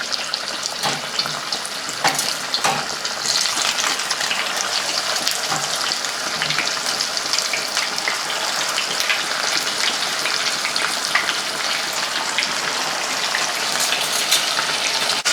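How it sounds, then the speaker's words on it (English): Buttermilk chicken pieces fry in a pot of hot vegetable oil at about 325°F, giving a steady, close, dense sizzle and crackle that runs unbroken throughout with no talking. "so these have been frying for about 6 minutes on one side"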